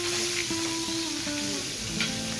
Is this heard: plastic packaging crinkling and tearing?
no